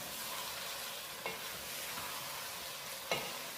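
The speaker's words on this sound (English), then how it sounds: "I'm going to add 6 to 7 green chilies. Bismillah. And mix them in." Green chilies are stirred into a bhuna chicken masala of onions, tomatoes and spices, with a dense close sizzle and two sharp scrapes of a spoon against the pan.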